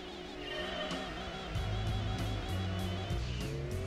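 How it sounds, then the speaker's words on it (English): A Gran Turismo 2 car engine drones and revs steadily, with a turbo whine and rhythmic gear-shift pulses. "Listen to the turbo."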